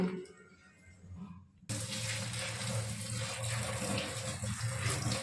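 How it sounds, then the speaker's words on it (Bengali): Drumstick flowers being rinsed in a basket under a running tap: after a quiet start, a steady loud gush of water pours continuously for several seconds, close by, with no talking. "এবার একটা ঝুড়িতে করে ভালো করে পরিষ্কার করে ধুয়ে নেব"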